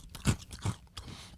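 An old, stale Oreo cookie from an unsealed pack is bitten and chewed up close, giving two sharp crunches followed by softer crackling chews and a final crisp bite.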